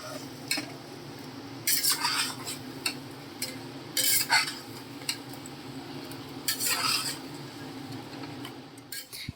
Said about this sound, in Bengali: মাটনের মধ্যে আলু দিয়ে আরও কিছুক্ষণ কষিয়ে নিয়ে